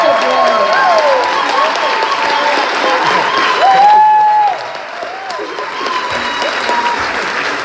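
Audience applause for percussionist Vernon Chatlein at a recognition ceremony in Curaçao, a sustained crowd clapping that holds steady, eases slightly midway and continues, with a voice briefly audible over it.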